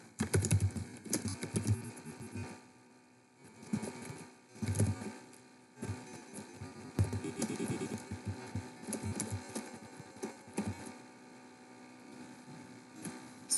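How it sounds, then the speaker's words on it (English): A message is typed on a computer keyboard, with close, quiet key clicks coming in uneven bursts and brief pauses over a faint background hum. "And I'm going to type my message in here."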